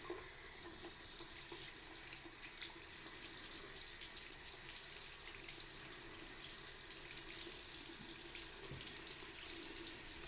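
Hot water streams from a slow bathroom tap as a continuous, steady close hiss of running water, unchanging throughout and free of talk.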